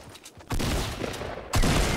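Gunfire in the Fortnite battle royale video game comes as a quiet pause, then a loud burst of rapid shots and a second sharp volley close up, with no talking.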